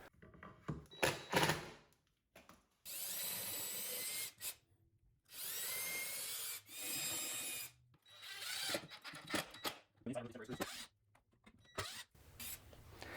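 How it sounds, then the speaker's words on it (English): A power drill whirs in several sustained bursts of a few seconds each, drilling mounting holes for drawer handles on a shop workstation, separated by pauses filled with clicks, handling and light tapping. "I'll go ahead and drill the mounting holes for all of the handles"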